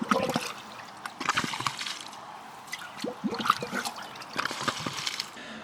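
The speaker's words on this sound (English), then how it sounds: "so now I got to bail out water just to even see what I'm doing here." Water being bailed out of a flooded water meter box: irregular scooping splashes, trickles and drips, close by and moderately loud, with no talking.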